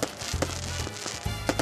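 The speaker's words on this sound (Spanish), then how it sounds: "fuegos artificiales para poner fin a unos intensos días de fiesta" Fireworks closing a carnival night in Piedralaves, Spain, with a dense rumbling wash of distant bangs and crackles, a few sharper pops standing out, and no voices.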